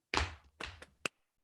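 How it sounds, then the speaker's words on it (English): Hands slap laps twice and then clap once, three distinct percussive hits in a slow rhythm, close and fairly clear with no talking. "Hit your laps 2 times. Clap your hands 1 time."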